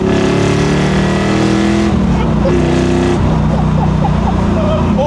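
A 1960s American car's V8 roars loudly up close, its deep engine note surging and dropping between gear changes before climbing again, with a raw motorsport edge.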